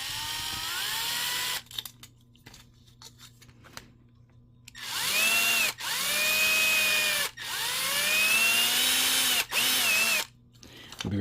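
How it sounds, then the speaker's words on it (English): Power drill boring into a plastic part of a 1/48 MegaScale Zaku II model kit: a few separate bursts of high, whining motor that rises in pitch as each burst spins up, with short pauses between them. "I guess this drill bit is not good enough for this"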